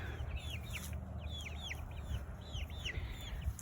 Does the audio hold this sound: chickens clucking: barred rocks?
yes